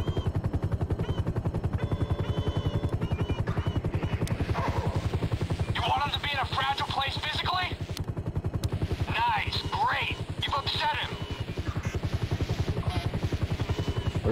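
Helicopter hovering overhead in the video game GTA 5, a steady low rotor drone throughout with brief bursts of higher chirping sounds partway through, under someone talking.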